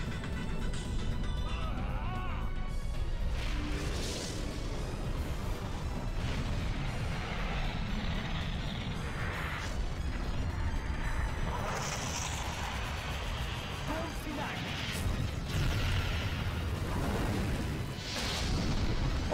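Explosive attacks strike the Pirate Queen's dragon in a boss fight in The Legend Of Dr... role-playing game: dense, continuous battle roar with repeated bursts of blasting throughout.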